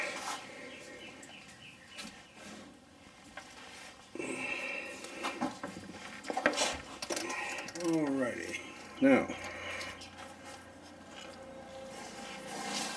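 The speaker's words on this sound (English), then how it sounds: "Crack the oil pan, plug loose. Got 17 millimeter." A ratchet clicks in short bursts while loosening the 17 mm oil drain plug on a 2016 Kia Sportage, close and fairly quiet, with tool handling noises between.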